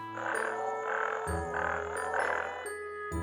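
Repeated frog croaks pulse steadily over a droning background, several rhythmic throaty calls in a row with no talking.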